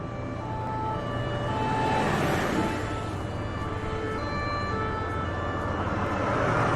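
A siren wails steadily over a constant rumble of traffic, moderately loud and continuous throughout.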